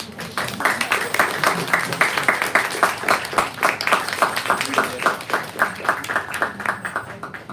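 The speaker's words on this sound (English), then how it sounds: "I think that deserves a round of applause." Audience applause at a live bookstore author event, steady clapping from a modest crowd sustained for several seconds at moderate volume, with no talk over it.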